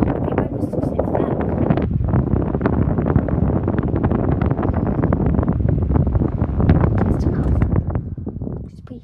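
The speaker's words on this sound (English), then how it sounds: "it feels like a big fan. It's really powerful." A powerful electric fan roars right against the microphone, a loud, continuous blustery rush of buffeting air that dies away at the very end.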